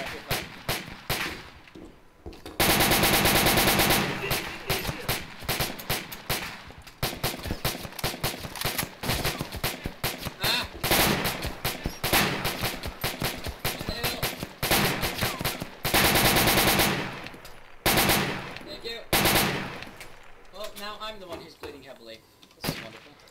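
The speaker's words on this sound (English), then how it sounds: "They're shooting at us from the fucking floor." Heavy automatic gunfire and rapid shots from the ArmA 2 military shooter during a night operation, loud bursts crackling almost continuously with brief lulls, while players talk over the combat.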